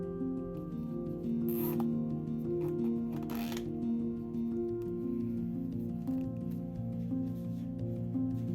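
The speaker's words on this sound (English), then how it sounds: "I use a zip tie to do the job" Zip tie ratcheting tight around a glued stack of wood laminates for a boat stem, two short, bright zipping bursts close up, over a quiet background of steady tonal hum.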